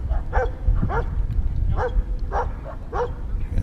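Dogs barking outdoors by a lake while playing over a ball, a few separate mid-distance barks and yips spaced through steady background noise.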